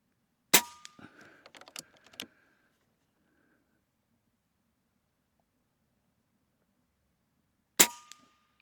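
Shots from a Taipan Veteran II Tactical rifle ring out at an outdoor range: one loud sharp crack, a quick flurry of lighter clicks and taps, then a long quiet before a second loud report near the end.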